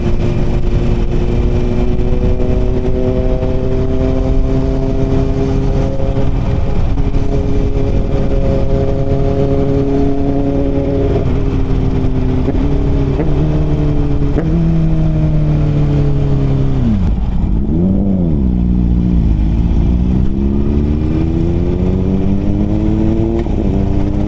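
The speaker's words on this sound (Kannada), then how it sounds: "ಇನ್ಲೈನ್ 4 ಕೇಳಿಸ್ಕೊಳೋದಕ್ಕಂತೂ ಗೂಸ್ ಬಂಪ್ಸ್ ಬರ್ತಿದೆ ಅಂತೂ." An inline-four superbike fitted with an aftermarket exhaust drones loudly at steady cruising revs on a highway, pitch rising and falling with gear changes and throttle, with a brief dip and climb near the end.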